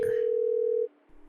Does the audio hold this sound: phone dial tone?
yes